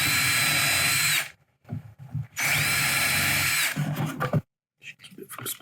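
A power drill drives brass wood screws into wood in two long whirring runs, each ending abruptly, followed by shorter bursts and handling knocks, loud and close with no talking.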